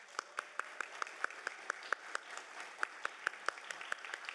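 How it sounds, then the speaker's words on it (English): A small audience at a university sustainability summit applauds a department coordinator, its claps loud, distinct and fairly evenly spaced, without any talking. "Let's give her a round of applause."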